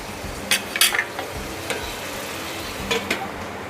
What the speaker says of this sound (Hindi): सारे आलू इसमें डाल देंगे, बहुत आराम से डालिएगा। गैस का फ्लेम बिल्कुल कम कर दिया है मैंने, और इसे ऐसे लटते पलटते हुए हम शैलो फ्राई करेंगे।